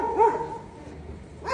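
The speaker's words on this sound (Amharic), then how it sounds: "ሰው እንዳይ ውሾች እየጮሁ ነው።" Dogs bark nearby in two brief, sharp bursts, one at the start and one at the end, over a low background hum with no speech.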